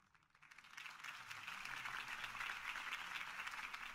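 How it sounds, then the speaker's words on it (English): A crowd applauding steadily in the video game Batman: Realm of Shadows, the clapping swelling in over the first second and then holding at a full, dense roar. "Mr. Wayne, my campaign's largest backer, could have heard that applause"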